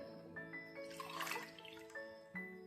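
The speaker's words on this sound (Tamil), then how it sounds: "3 டம்ளர் தண்ணி விட்றேன்." Water is poured from a tumbler onto washed moong dal in a pot in a home kitchen, making a soft, faint splashing and trickling with a few drips.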